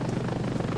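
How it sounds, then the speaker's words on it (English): A helicopter in the video game Ravenfield gives a steady, close rotor chop that runs the whole moment without pause. "Are you in the chopper?"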